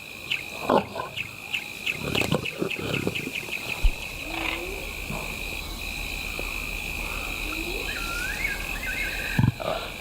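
Lions, including a large cautious lioness with cubs, gather at a giraffe carcass in the African wild amid chirping insects and birds. Low grunts and rumbling calls come in short bursts, with occasional scuffling nearby.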